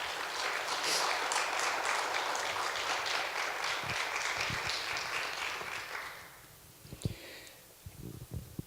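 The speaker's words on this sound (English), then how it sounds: "Would you join me in giving these ladies a round of applause?" An audience at a panel event on African American women in higher education applauds the panel members, with dense steady clapping for about six seconds that then fades into scattered thumps and room noise.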